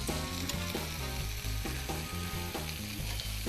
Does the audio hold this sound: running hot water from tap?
no